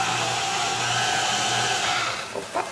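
A stand mixer kneads bread dough with flour just added, giving a steady, loud motor whir that holds evenly and then dips with a few uneven bumps near the end. No one speaks.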